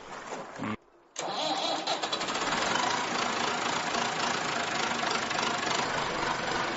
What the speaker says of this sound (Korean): 우리 나이로 올해 78살인 무이카 대통령이 직접 올라타 힘차게 시동을 겁니다